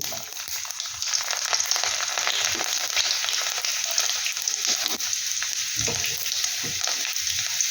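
Cumin seeds and garlic frying in hot oil for a fenugreek-leaf dish, a continuous bright sizzle with occasional stirring scrapes and spatter pops, close and steady.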